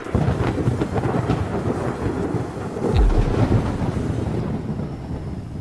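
Minecraft thunderstorm weather from a custom resource pack: dense steady rain hiss with a deep rolling thunder rumble swelling in the middle, fairly loud and close, with no talking.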